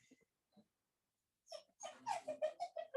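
A dog whimpers and yips in a rising run of high, whiny cries, close and fairly loud after a few faint early sounds.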